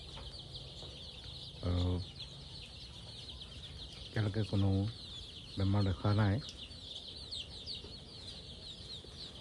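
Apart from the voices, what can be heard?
local chicken chicks clucking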